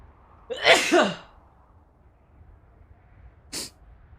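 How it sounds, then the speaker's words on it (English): A single loud, close human sneeze, followed a few seconds later by a short sniff. "I gotta sneeze."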